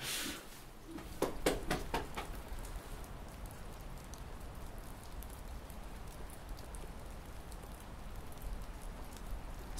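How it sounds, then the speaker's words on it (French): Steady rain patters on a surface in a continuous soft hiss, with a few sharper drip taps near the start, heard up close and alone. "Le bruit de la pluie là."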